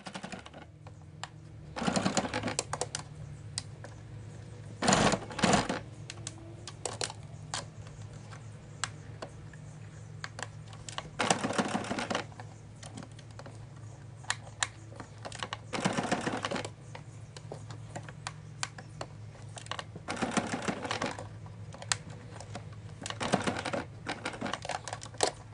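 Sewing machine stitching the channeling of a balconette bra, with short bursts of rapid mechanical stitching that start and stop several times over a low steady hum.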